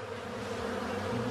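A dense, continuous buzzing hum comes from a crowd of bees inside a queenless beehive box, steady and close throughout the short moment.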